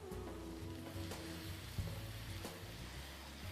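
Onions saute in a pan with a soft, continuous sizzle and faint crackle, quiet and close, with a low background hum and no talk.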